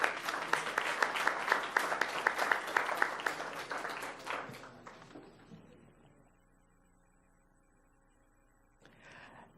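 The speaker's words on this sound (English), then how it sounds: "Let's give them a big round of applause." An audience at a Palm Beach County recognition event applauding, loud dense clapping for about four seconds that tapers off, then a low hum with a faint sound returning at the end.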